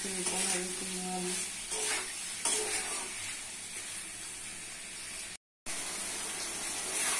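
Pumpkin and potato pieces fry with dried shrimp masala in a pan, making a continuous loud sizzle with stirring, cut briefly by a short silent gap.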